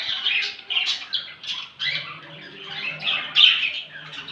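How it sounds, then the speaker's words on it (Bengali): Budgerigars in a breeding colony, a dense close chorus of overlapping chirps, warbles and squawks in quick irregular bursts, with no voices. "এটা আমার বদ্রিকার পাখির সেটআপ।"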